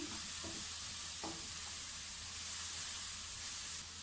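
Bell pepper and garlic frying in a pan, a steady close sizzle with faint stirring scrapes near the start and no talk.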